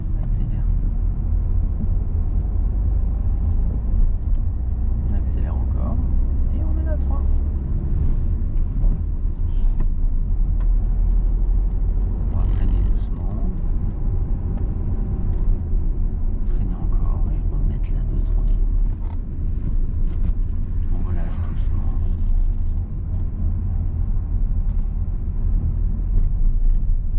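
A car engine steadily revs and accelerates during a driving lesson, a continuous low rumble that stays even throughout while an instructor talks over it.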